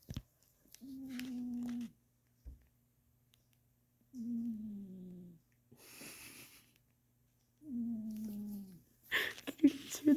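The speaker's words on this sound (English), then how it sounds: "My cat is snoring." A cat snores close by in three slow, even breaths, each a low raspy rumble of about a second, separated by quiet pauses, with a faint rustle between them and a short sharp noise at the end.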